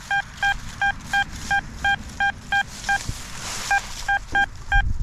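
An XP Deus 2 metal detector's target beep repeats in short, evenly spaced bursts, around a dozen tones over a faint scraping and rustling background.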